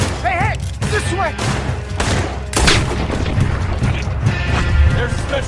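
Gunfire erupts in Red Dead Redemption 2 during a shootout, with dense overlapping shots and booms under shouting and talking voices throughout.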